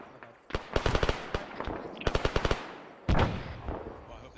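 Artillery fire in a military shooter video game: rapid bursts of loud gunfire crackle in quick rhythmic volleys, ending in a heavier booming blast with a decaying rumble.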